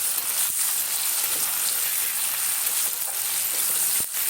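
Spices for a carambola pickle fry in a pan, giving a steady, fairly loud sizzle with a few short crackles and stirring clicks, close and without speech.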